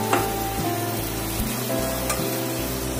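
Chopped tomatoes sauté in a hot pan with garlic paste, giving a steady, loud close sizzle and crackle with soft stirring scrapes and no voices.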